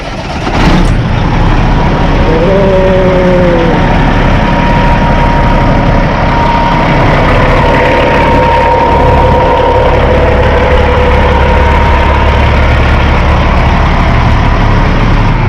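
A Freightliner XL semi truck engine runs steadily at idle, a loud, constant low rumble with a faint tonal whine, close by and with no talking.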